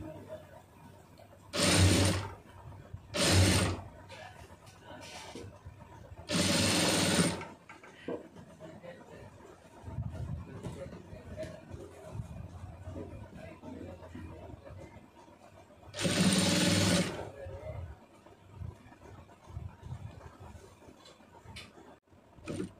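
A sewing machine stitches thread piping onto fabric in short bursts: two quick runs, a longer run, then a pause filled with quieter handling noise before another steady burst, loud and close.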